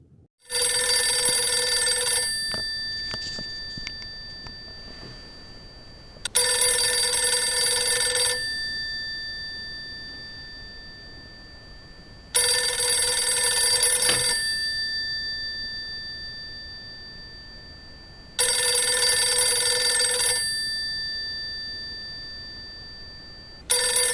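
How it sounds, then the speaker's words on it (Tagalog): An unplugged telephone rings on its own in loud, repeated bursts of bell-like trilling, four rings spaced about six seconds apart with silence between, close and alone. "So paano ito nagre-ring ng kusa?"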